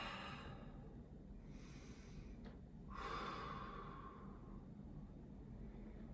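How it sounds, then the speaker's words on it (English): Slow, deep yoga breathing during a power flow sequence: a long soft exhale, then a louder, rushing inhale and release, close and fairly quiet over faint room noise. "Take another breath"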